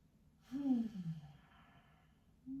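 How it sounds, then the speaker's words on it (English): One slow, deep breath drawn in and let out as a soft, breathy sigh during a calm yoga class, close and quiet, with the start of another breath at the end. "Taking a nice deep breath in."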